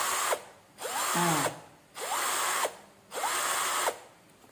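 Cheap cordless hand drill under $20 boring into material while throwing sparks, running in about four steady whirring bursts separated by short pauses, loud and close, with one brief spoken word.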